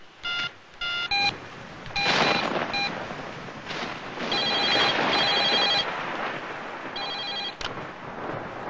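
An old telephone rings in bursts of electronic trilling tones, several separate rings across the scene, loud and close with no talking.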